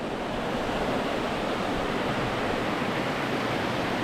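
River water rushing steadily beneath a footbridge on a Scottish Highlands hiking trail, a loud continuous broadband roar close by with no voices.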